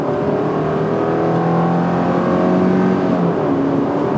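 A 2019 Subaru Forester Limited in sport mode accelerates with a steady, loud engine drone and rising tones, heard from inside the car with no talking.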